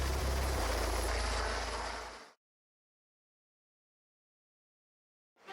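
A loud New Zealand Air Force helicopter roar with low rotor thumping fills the first couple of seconds, then cuts out abruptly into silence before a brief return.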